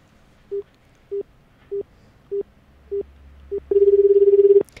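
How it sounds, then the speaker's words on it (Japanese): A telephone call placed by a morning FM radio show in Ginowan: six short evenly spaced dial tones, then a longer steady ringback tone, all alone and fairly loud with no talking. "普天間流坊、聖火担当の、牧師勉さんという方に、お電話つなげたいと思います"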